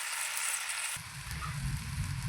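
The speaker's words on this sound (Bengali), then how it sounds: "দেখুন ঝোল আমার টকবক করে ফুটে গেছে।" Vegetarian kofta curry gravy bubbles in a pot, a dense close sizzle and hiss that gives way to a lower, steady simmering burble.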